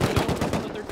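Rapid gunfire during a raid in the video game Rust, a dense burst of repeated shots with a turret firing nearby, loud and continuous through the whole second with low thumping impacts.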